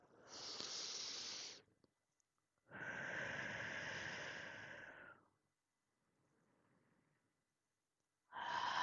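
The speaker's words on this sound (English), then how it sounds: "Let's take 3 deep breaths to close the circle." Long, deep breaths close a meditation, two loud airy exhalations near the mic, a fainter softer breath, then another strong breath beginning, with no talking.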